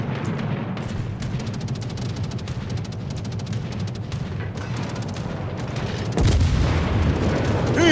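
Naval gunfire in World of Warships as a ship comes under attack, rolling booms and rapid shot bursts over a constant rumble, growing louder and heavier near the end.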